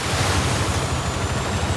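An electric rally car ploughs through water during a Badlands rally in Forza Horizon 5, making a loud, continuous rushing splash that fills the whole brief moment.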